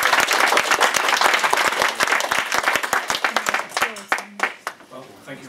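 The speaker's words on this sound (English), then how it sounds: "So guys, massive round of applause for Clive de Carle." A conference audience gives a speaker a round of applause, dense loud clapping that thins into scattered individual claps and fades toward the end.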